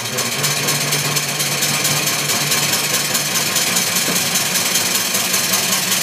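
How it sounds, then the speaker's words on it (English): A small dual oscillating steam engine with a flyball governor runs on about 25 psi of compressed supply, giving a steady, dense mechanical chatter with a low hum throughout, loud and close with no talking. "The engine is running, and the fly balls have moved out under centrifugal force"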